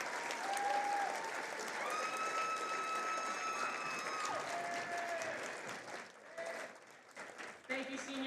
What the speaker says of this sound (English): Let's give a round of applause to all our seniors and their families.